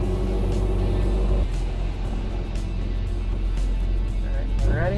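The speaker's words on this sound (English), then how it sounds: "we're gonna go out and we're gonna go try to drive the vehicle" A car with an LS engine and Go Shift automatic transmission drives along, its steady engine rumble filling the background while someone talks over it.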